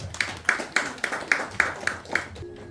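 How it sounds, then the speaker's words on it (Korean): An audience at a Korean book concert claps in an even rhythmic beat, about eight sharp claps in under three seconds, moderately close, with no talk over them. "여러분 박수로 맞이해 주시기 바랍니다."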